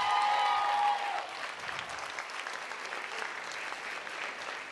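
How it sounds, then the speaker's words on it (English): A crowd at a comedy program applauds in steady, dense clapping that holds at an even level throughout. A brief tonal whine sits under the opening second. "So we're gonna give this one more round of applause for them while I bring them to the stage."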